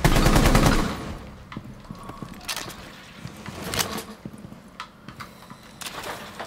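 Gunfire in the Rainbow Six Siege video game: a loud burst of rapid automatic fire opens, then scattered single shots and short bursts crack at a distance, with quieter clatter between them.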